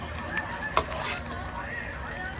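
Adobo chicken feet with an egg being stirred in a pan: soft scraping and stirring over a low sizzle, with one brief clink partway through.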